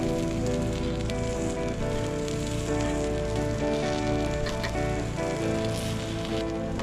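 Bacon sizzling on a griddle, a dense steady crackling hiss heard close up and continuous, without talk.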